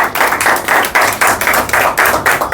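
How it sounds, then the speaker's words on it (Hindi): An audience at a Holi poetry gathering claps to welcome a poet: loud, close, rhythmic group clapping that pulses steadily throughout, with no talk over it. "तालियों से स्वागत करेंगे गुरुजी का"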